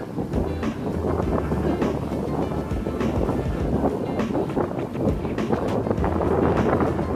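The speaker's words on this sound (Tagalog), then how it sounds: "Malakas ang hangin." Strong wind buffets the microphone in a continuous loud roar that rises and falls slightly, with no voices.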